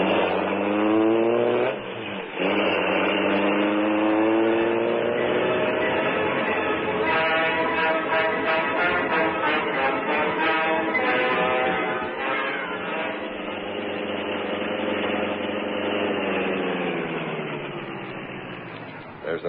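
Car engine in an old radio drama revs and drives off, a steady loud motor drone with shifting pitch as it accelerates away over about twenty seconds.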